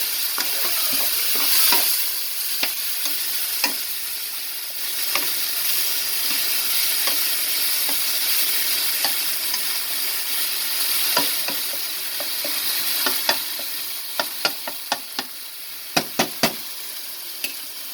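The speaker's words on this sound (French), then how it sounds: "Je vais mettre le purée de tomates. Je vais mélanger le tout." Browned onions and tomato purée fry in a pan for chana masala, giving a continuous hissing sizzle with occasional spoon knocks that turn into a quick run of sharp taps toward the end; no speech.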